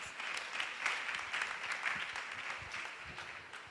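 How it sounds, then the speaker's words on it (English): Applause at a Catholic medical convention, a scattered, fairly faint patter of clapping from a modest crowd, uneven and continuous throughout. "Please, another round of applause for Stanbic while I try to climb on stage, please."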